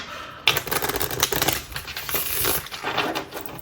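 Tarot cards shuffled by hand close up, a dense run of quick crisp riffling and flicking with a few sharper slaps, steady throughout and with no talking.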